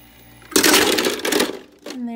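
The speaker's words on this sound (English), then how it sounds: "As you see, the ice falls right in." A Silonn SLIM02 countertop ice maker dumps a fresh batch of ice, giving a short, loud clattering rush of falling cubes that lasts about a second, followed by a brief tone.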